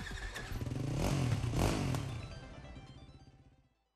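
A dirt bike's engine in Trials Fusion revs up into a buzzing, rising whine, peaks, then eases off and fades out, close and loud throughout.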